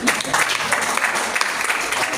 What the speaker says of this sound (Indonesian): tepuk tangan para istri